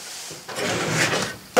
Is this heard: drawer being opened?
yes